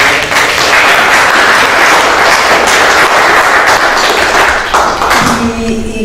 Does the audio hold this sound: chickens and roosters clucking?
no